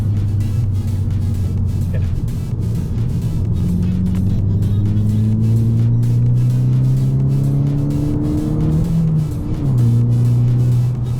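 A manual Volkswagen MK6 GTI engine drones loudly close by, its pitch climbing steadily, then dropping sharply and rising again as the driver rev-matches a gear shift.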